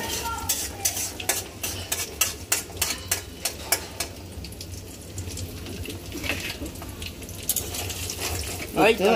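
Chopped garlic frying lightly in a pan at home, a sharp run of metal scraping and stirring clicks over a steady low sizzle, fairly close, with a louder clatter at the very end.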